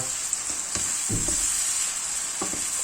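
Chopped tomatoes drop into a hot oiled pan of fried vegetables for a low-fat moussaka, giving a steady sizzle with a few soft stirring bumps.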